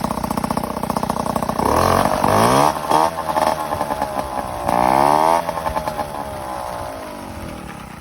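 A Peugeot 103 moped's two-stroke engine buzzes close by, idling unevenly and then revving in several short bursts before falling back, with no talking over it.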